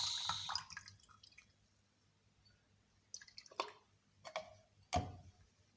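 Liquid is decanted from a vessel in a tissue culture lab. There are a few faint, brief splashes and drips, spaced apart, in a quiet room.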